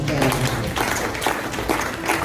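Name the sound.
applause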